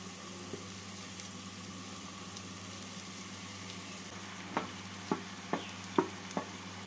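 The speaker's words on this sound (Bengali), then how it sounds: "চিড়েগুলো দিয়ে সবজির সাথে নাড়াচাড়া করে নেব।" Flattened rice (chira) being stirred with vegetables in a pan for chirer polao, a quiet low hum under the first part, then five sharp scraping strokes near the end.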